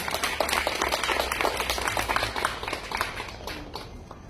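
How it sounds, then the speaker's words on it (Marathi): A temple congregation at a Thursday Swami devotional gathering claps together, a dense, sustained patter of many hands that holds steady and tapers slightly toward the end. "टाळ्यांचा गैर होऊ दे."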